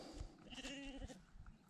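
Sheep bleat outdoors, faint and distant: one wavering, harmonic bleat rises out of quiet background noise with soft rustling.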